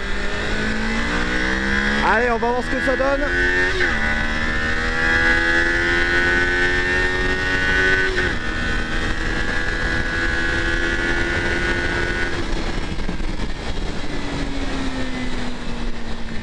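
A Kawasaki Ninja 500 SE motorcycle engine revs up and down through gears, its pitch rising and sliding steadily, loud and close, after a brief spoken remark.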